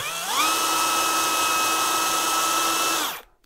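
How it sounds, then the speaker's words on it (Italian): A Parkside Performance 64 Nm cordless percussion drill driver spins with no load, ramping up quickly to a loud, steady high-pitched motor whine that holds for about three seconds and then cuts off. "Vediamo anche questo come gira, vi faccio vedere direttamente a vuoto e poi mettiamo pure una punta."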